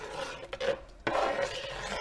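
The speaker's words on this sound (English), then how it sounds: "we're just going to give that a stir. Stir that through." A spoon stirs meatball sauce in a pan, giving soft scraping and a couple of light knocks against the pan, close and fairly quiet.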